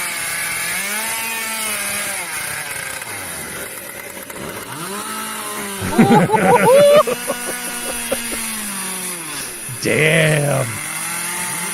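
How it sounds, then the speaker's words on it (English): Chainsaw cutting through wood during a panel stacking event, the engine heard as short loud bursts partway through over a steady background hum, with people talking and exclaiming throughout. "Chainsaw."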